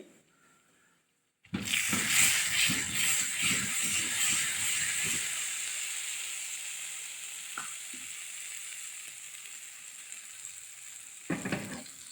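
Red chillies frying in oil in a pan, a loud hissing sizzle that bursts in suddenly after a quiet moment and settles into a steady crackle, with a few clicks and clatters toward the end.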